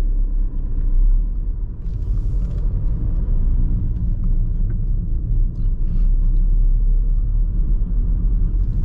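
A learner car idles at traffic lights in Stockport town centre, then pulls away in first gear, its low engine rumble steady and close throughout with faint road noise and no talk.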